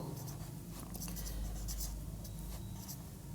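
Chalk or marker scratches across a classroom board during a Class 4 maths lesson, coming as a run of short rubbing strokes in irregular bursts over a constant low room hum, with no voices.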